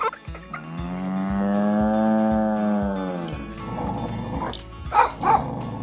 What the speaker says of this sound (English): Did you recognize the cows mooing? The dog barking?